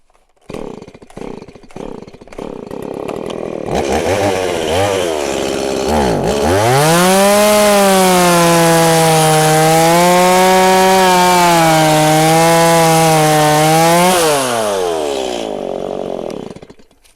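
A chainsaw sputters, revs up, then bites into a walnut tree branch with a loud, sustained whining drone that wavers in pitch before easing off.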